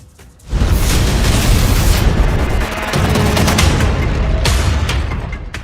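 Bombing explosions in countries allied with America during the Iran–America war, heard as a loud, sustained rumble of blasts and booms that rises abruptly and continues with dense crackling bursts, without voices.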